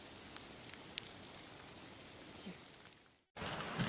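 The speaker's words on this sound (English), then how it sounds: "it just started unleashing tons of hail" Hail pouring down hard in the Colorado Rocky Mountains, a dense, crackling patter filling the air, steady and fairly close, cut off briefly near the end before resuming.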